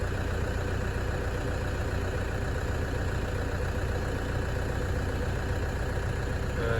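A car engine idles steadily in a continuous, even mid-to-low drone, close by and unchanging throughout, with no talking.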